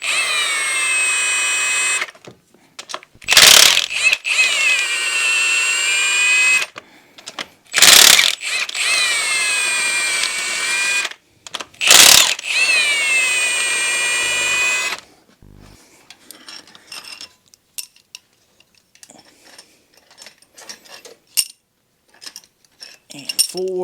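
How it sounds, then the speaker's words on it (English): A ratchet loosens the 8mm cylinder head bolts on a Polaris Sportsman 500 ATV engine, making loud, close, rapid clicking in three long bursts broken by sharp bangs, then quieter scattered tool handling. "I'll come in here, loosen up the cylinder head bolts."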